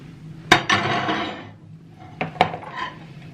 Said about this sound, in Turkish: Şimdi bunu güzelce karıştıracağım